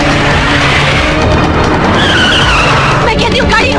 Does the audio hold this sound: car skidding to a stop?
yes